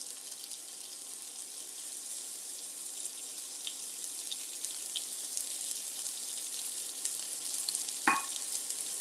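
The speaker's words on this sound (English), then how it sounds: "because it's got this little fat cap on it, it will sizzle up" Fat-capped meat sizzles in a pan, a steady, loud, continuous frying hiss with a few small pops and one brief clatter near the end.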